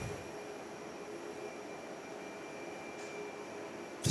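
A Malaysia Airlines airliner taxis at Perth airport, a steady, distant jet engine rumble and whine heard from outside, fairly faint and unbroken, with a brief clunk at the end.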